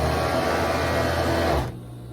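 Sewing machine stitching the seam of riding pants, a loud, close, continuous motor hum that stops abruptly near the end.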